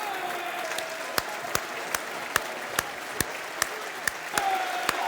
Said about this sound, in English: I think this is the applause for Tony Macklin, one of a fan who's passed away recently.